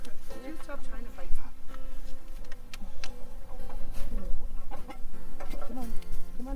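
Chickens cluck and squawk repeatedly at a petting zoo, close and busy, while people talk over the flock throughout.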